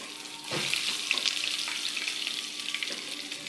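Cumin seeds and a split green chili sputter in hot oil, a sudden burst of sizzle after a quiet start that settles into a steady close crackle with scattered pops.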